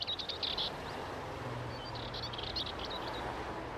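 An urban songbird sings in short, high bright phrases from a small patch of city habitat, repeated bursts over a constant low rumble of traffic noise, with the song fairly clear against the background.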